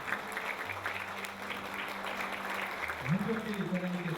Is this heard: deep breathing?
no